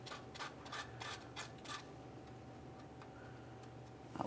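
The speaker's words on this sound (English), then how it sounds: "Use some sandpaper for this." Sandpaper rubbing the threaded O2 sensor mounting bung on the exhaust pipe of a 1998-2011 Ford Ranger 2.3L, a few quick close rasping strokes at first, then faint light scraping over a quiet background.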